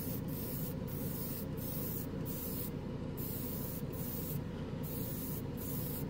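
Green Stuff World gloss black primer hisses from a spray can in a run of short, evenly spaced bursts, each a soft broadband spray close by, with no talking.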